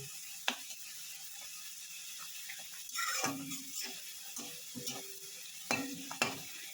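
Chopped onion fries in mustard oil with radhuni seeds, a faint steady sizzle with occasional scraping stirs and clinks of a spatula against the pan, no voices.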